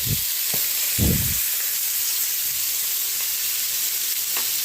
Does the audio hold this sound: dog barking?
no